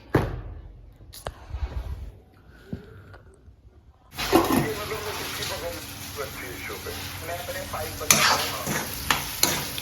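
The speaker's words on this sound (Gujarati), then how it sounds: "આપણે ટામેટા ફ્રાય કરીને પાલક ભાજી બનાવવાની છે" Tomatoes frying in a pan for a spinach dish: after a quiet start with a few clinks, a loud steady sizzle breaks out and continues with stirring scrapes.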